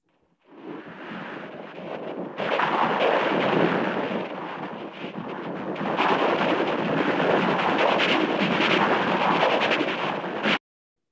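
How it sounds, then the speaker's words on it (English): A Beethoven sonata rendered through a cochlear implant simulation, heard as a harsh, noisy, rumbling wash with no clear tones, steady and loud before stopping suddenly. "So the same music through encoded by a cochlear implant may sound like this."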